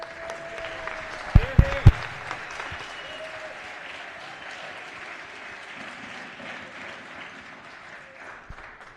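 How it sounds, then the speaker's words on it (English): A round of applause swells and holds through a Maryland House of Delegates floor session, broad steady clapping across the chamber, with a few sharp knocks near the start and voices in the room. "we want to thank you and give you a round of applause"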